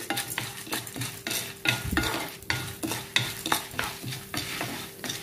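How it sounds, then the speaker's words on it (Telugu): Chana dal and urad dal roast in a pan while being stirred, giving a rhythmic series of scraping strokes over a soft, steady sizzle, with faint clinks of the utensil. "1/2 కప్పు పచ్చెనగపప్పు, 1/2 కప్పు మినపప్పు 2 వేసుకొని 1 నిమిషం దోరగా వేయించుకోవాలి."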